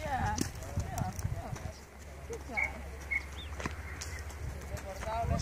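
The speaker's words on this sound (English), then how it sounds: "See, the horse is just going by itself now." Hooves clop steadily over rocky ground at a walking pace while a person talks nearby and birds chirp faintly.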